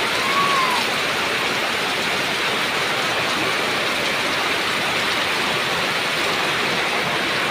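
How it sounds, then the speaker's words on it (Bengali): Continuous heavy rain falling over a village pond and yard, an unbroken, loud broadband wash of water that stays even throughout, with no talking. "একটানা বৃষ্টিতে তো পুকুর ভরে গেছে।"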